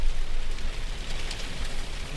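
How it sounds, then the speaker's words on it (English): Heavy rain pours down during a severe storm in Fountain Hills, Arizona, a dense, steady wash of hiss with scattered drop patter, close and fairly loud with no voices. "I can clearly hear that rain coming down."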